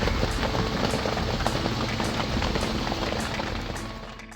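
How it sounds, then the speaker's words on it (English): Rain falls steadily at a camp on Fraser Island, a dense close patter on surfaces with a rhythmic pulsing thrum that fades slightly near the end. "it just kept raining"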